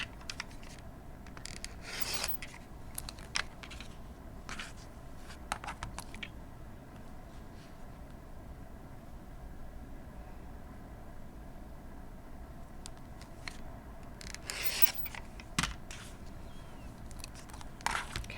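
Rotary-cutter or scissors cuts through cotton fabric while cutting two 6.5-inch squares for a quilted mug rug, heard as soft, close rasping strokes and scattered clicks at a quiet level, with no voice.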